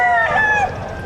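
A rooster crows loudly and close at the Padre Garcia livestock auction market in Batangas, one drawn-out call that fades toward the end over faint background noise.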